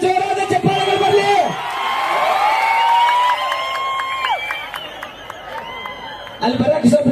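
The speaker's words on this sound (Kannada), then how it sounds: "ಜೋರಾದ ಚಪ್ಪಾಳೆಗಳು ಬರಲಿ" A crowd cheers and whoops for a singer at a live stage event. Shouts and whistle-like cries rise and fall over several seconds, with voices mixed in and a louder surge near the end.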